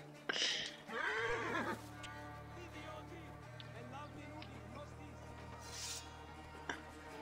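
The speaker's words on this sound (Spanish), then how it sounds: "Que se vayan los caballos." Horses in the video game Assassin's Creed Origins whinny loudly and close at the start, followed by a steady low in-game drone and soft ambient rustling.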